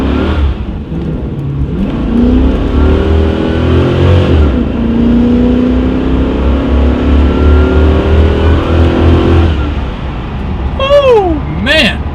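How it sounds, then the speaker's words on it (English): Car accelerating hard from a standstill and fishtailing, a loud engine roar rising in pitch for several seconds, then easing off, with high tire squeals near the end and voices over it. "We're gonna go to a complete stop because there is nobody behind us, and we're just gonna mash the gas."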